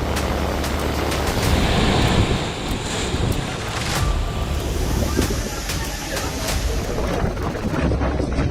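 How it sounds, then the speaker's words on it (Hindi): Rough sea surf from Cyclone Biparjoy churns and crashes continuously on the Gujarat coast under heavy wind buffeting the microphone, with a voice talking over it. "समंदर से उठ रही ऊंची ऊंची लहरें डरा रही हैं।"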